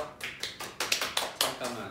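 A handful of distinct, sharp claps sound in an irregular rhythm, close and fairly quiet, like a small group or a single person clapping briefly rather than a full audience.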